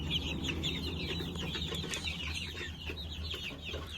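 Several chickens cluck and chatter close by in a steady, busy flock, with no talking over them.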